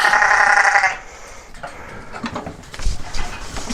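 A lamb bleats loudly in a sheep chute on a farm, a sustained close call lasting about a second, followed by quieter rustling, clanking and shuffling of livestock handling equipment.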